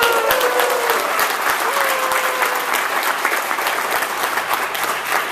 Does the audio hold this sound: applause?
yes